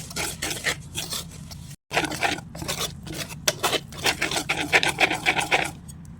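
Wheat flour cake batter is stirred in a bowl, producing repeated rhythmic scraping and rubbing strokes close by, with a brief pause midway before the mixing resumes.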